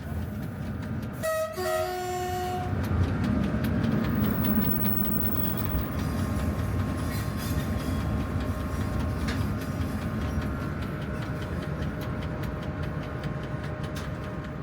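CC 65512 diesel locomotive pulling through forest toward Gièvre, a loud steady rumble and clatter of rail cars with a short two-tone horn toot near the start, continuing close and uninterrupted.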